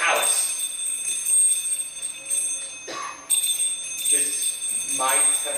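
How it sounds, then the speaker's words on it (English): Many bells ringing together throughout a house in a Christmas Carol film adaptation, bright metallic chimes swelling and overlapping in repeated waves, with a voice speaking beneath them. "soon rang out loudly, as did every bell in the house"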